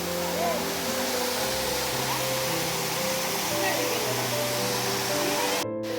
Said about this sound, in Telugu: full water falls